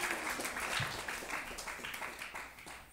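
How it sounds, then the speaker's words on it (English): Studio audience applause on a late-night talk show, a steady, dense patter of many hands clapping at moderate distance for the full three seconds, with no talking over it. "How about another round of applause for Daniel Woodrow?"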